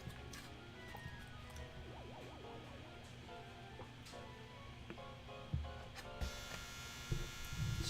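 A clothes dryer buzzes faintly in the background, a thin steady hum under quiet video-game sounds of the retro game Pikmin, with a few louder knocks near the end.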